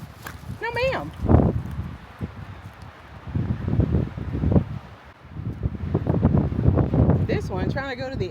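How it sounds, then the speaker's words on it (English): Gusty wind at the Royal Gorge buffets the microphone in loud, uneven low rumbles that swell and fade across the whole stretch, with voices talking faintly in places. "Because it is kind of windy to be up here."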